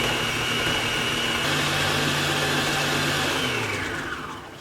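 A Kenwood stand mixer with a paddle creaming cupcake ingredients: a loud, steady motor whir close by that holds its pitch, then winds down near the end, with no voices.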